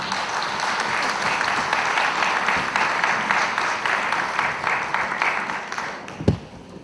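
An audience at an evening group bhajan gathering applauds after the performance, dense sustained clapping filling the room at an even level, ending with a single louder knock.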